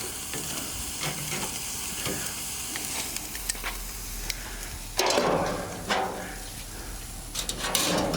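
Meat sears on an outdoor grill on a back patio, a steady broadband sizzle running throughout with occasional scrapes and clatter, swelling louder for a stretch midway; no one speaks.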